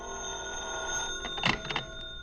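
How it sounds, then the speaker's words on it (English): A telephone bell rings in a radio drama, a couple of bright metallic ring bursts sounding close and clear over a faint hum before falling silent. "The kind of a look that tells you the phone will be ringing soon."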